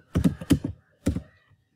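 Keys tapped on a computer keyboard, a quick cluster of soft thudding keystrokes followed by a pause and a short second burst, close and clear with no talk.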